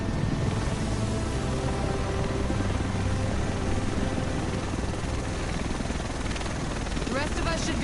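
A helicopter arrives in The Division video game with a loud, continuous rotor drone and engine whine that fills the scene throughout, while people talk over it.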